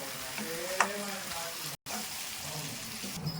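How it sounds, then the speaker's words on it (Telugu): Country chicken frying in a pan gives a steady close sizzle with a few sharp crackles and a brief cutout midway; a voice speaks faintly underneath. "కొద్దిగా బాగా ఫ్రై అయ్యేదాకా మనం ఇలా వేయించేసుకుందామని"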